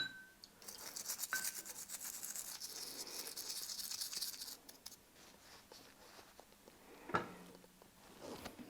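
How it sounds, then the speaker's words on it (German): Rubbing and brushing on the metal tension housing of a vintage Pfaff 30 sewing machine, close scratchy strokes running steadily for several seconds, then a pause and a sharper clink near the end. "unser Gehäuse reinigen wir auch nochmal"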